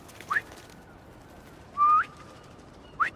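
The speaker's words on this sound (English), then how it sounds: "They are pigeons." Pigeons in Marvel's Spider-Man 2 give three short whistled calls, the middle one longer and louder, over a soft constant background hiss.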